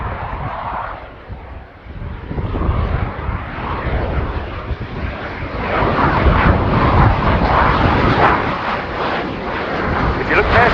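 A fly-by-wire aircraft with canards passes at the Royal International Air Tattoo airshow, its loud rumbling engine roar swelling and holding, heard under an announcer's commentary.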